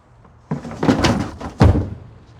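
An old wooden drawer from a record cabinet found in an abandoned storage unit is handled, giving two close, solid wooden thunks about a second apart over a quiet room.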